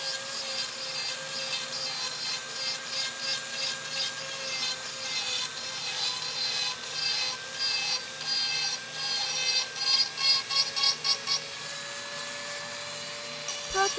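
A carving tool working a cherry wood yarn bowl: a steady, whining grind with a rough wood texture runs throughout at moderate level, with some pulsing near the end.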